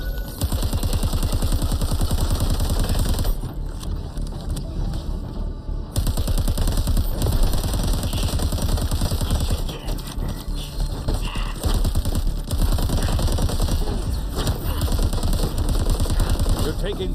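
Turrets in the VR shooter Onward pour out loud, rapid automatic fire in long bursts, a dense close clatter that breaks off briefly and resumes, with voices speaking underneath.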